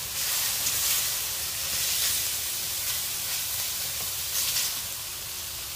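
Pork liver and intestines sizzle steadily in freshly added cooking oil in a pan for spicy adobo, a continuous close hiss with small crackling bursts and no voices.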